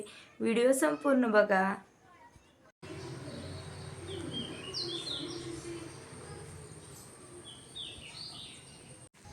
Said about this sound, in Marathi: तुम्हाला तो पक्ष्यांचा आवाज ऐकवायचा होता